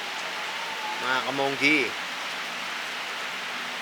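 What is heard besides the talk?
heavy rain falling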